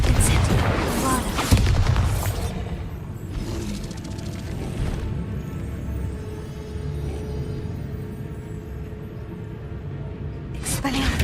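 Confringo and Bombarda spell blasts from the Hogwarts Legacy video game: several loud, booming bursts near the start, another around the middle, and a final blast at the end, over a constant low rumbling game backdrop.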